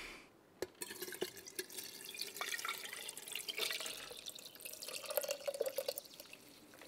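Borage, mint and cistus incanus tea is poured into a cup, a close trickling and splashing of liquid that starts after a sharp knock and runs unevenly with bubbling drips.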